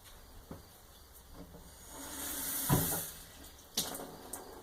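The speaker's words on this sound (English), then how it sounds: "Now we're going to go ahead and add a 1/4 cup of water." A quarter cup of water pours into freshly ground horseradish, a soft hissing trickle with a few light knocks and clinks as it is added.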